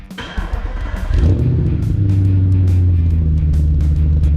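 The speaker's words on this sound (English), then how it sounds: "start up the engine so I could see if this Audi was actually going to move" An Audi S5 that sat unused for three years cranks over and fires, settling into a rough, steady idle as it begins to move, close and loud with no voices.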